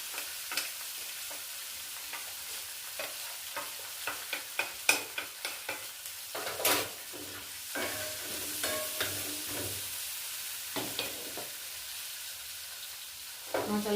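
Kashmiri chilli powder, cumin and ground coriander fry in a pan with papaya pieces for a vegetable dish, giving a steady sizzle broken by frequent scraping stirs and spatula knocks, close and fairly quiet.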